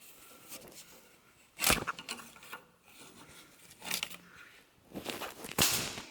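An oil filter wrench loosening the oil filter on a 3.0 Duramax, quiet ratcheting clicks and metallic scrapes in a few separate bursts at close range.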